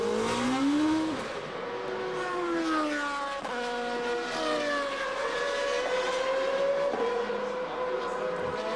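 GP2 Series race car engines at a 2006 race in Germany: high-pitched engine notes that rise and fall in pitch as the cars shift gears and pass, continuous and fairly distant, with commentary faintly underneath.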